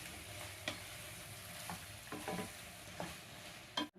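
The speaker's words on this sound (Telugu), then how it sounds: "మంచిగా కలపాలి." Raw banana curry stirred in a pan, a soft steady sizzle with a few scattered light scrapes of the spoon, faint and close.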